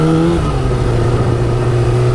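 A Chevrolet Camaro engine runs loud and close, a continuous deep mechanical drone that climbs slightly in pitch as it revs.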